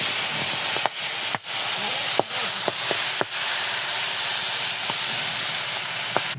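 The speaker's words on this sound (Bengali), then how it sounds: "এখন বড়ইগুলো আস্তে আস্তে আমি ছেড়ে দিব।" Jujubes (boroi) slid gradually into hot oil seasoned with turmeric and salt for a sweet-sour pickle: steady loud sizzling and hissing throughout, broken by small crackles and pops as pieces drop in.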